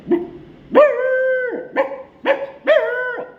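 Someone imitates a street dog barking louder, yipping and barking in a raised voice: four or five short, nasal yelps and drawn-out barks in an uneven rhythm, close and clear.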